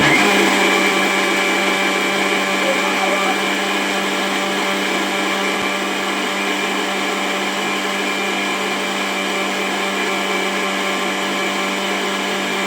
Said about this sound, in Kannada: ಇದನ್ನೆಲ್ಲ ನಾನು ಇವಾಗ ರುಬ್ಕೊಳಕ್ಕೆ ಹಾಕೊತಿದ್ದೀನಿ